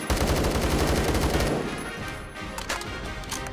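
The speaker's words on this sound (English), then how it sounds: "Has recoil every time you pull the trigger on the gun." Rapid automatic gunfire from a Roblox video game, a dense burst of repeated shots that stops after about a second and a half, followed by a few scattered fainter shots and clatter.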